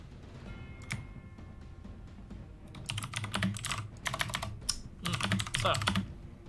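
Computer keyboard typing during a tabletop D&D game session, with quiet scattered keystrokes early, then dense bursts of rapid clicking, close and fairly loud, under a low room hum.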